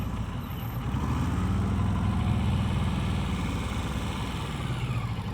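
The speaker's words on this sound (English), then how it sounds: "You hear the throttle going down, right?" A motorcycle engine runs at low throttle during slow-speed riding practice. It makes a steady, low, even drone throughout, close and continuous, with no voices.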